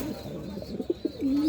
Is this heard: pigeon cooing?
yes